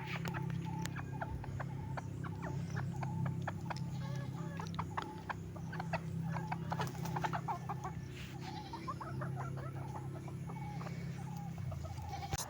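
Free-range desi chickens in a backyard bird house cluck as they are called for feeding, giving a steady stream of short, overlapping clucks and chirps over a low background hum.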